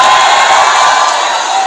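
An audience at a university cultural festival cheers and applauds loudly, forming a dense, continuous wash of crowd noise that holds steady for the whole stretch.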